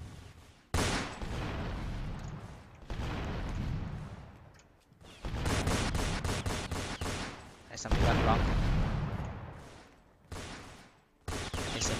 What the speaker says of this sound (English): The machine gun or something.